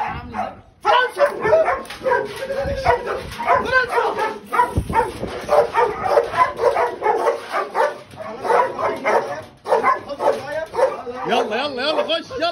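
Malinois dogs on a breeding farm bark and whimper almost continuously, loud and close, with yips and whines mixed among people talking.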